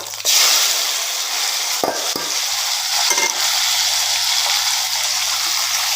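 Mustard seeds, urad dal, cumin, fennel, curry leaves, onion and tomato sautéing in hot oil, a loud continuous sizzle with occasional spoon scrapes and stirs, close up and no talking.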